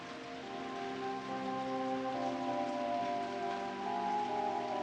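Steady rain falls with a broad hiss throughout, while sustained organ-like droning tones hum underneath at an even, moderate level.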